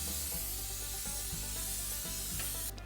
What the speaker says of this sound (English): I'm going to lightly spray mine.